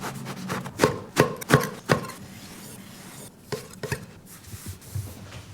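Knife slicing chocopan bread into little slices for croutons on a board, several crisp cuts in quick succession, then a few softer, scattered cuts, close and alone without talk.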